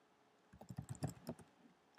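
Soft keystrokes on a computer keyboard as a place name is typed, a short quick run of faint clicks lasting about a second.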